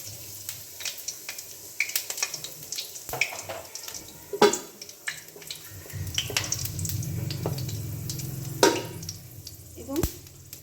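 Two dried red chillies and a teaspoon of whole cumin sizzle in hot oil in a kadai, a steady frying hiss broken by sharp clicks and clatters of the spices and utensil, with a brief louder surge of sizzling midway.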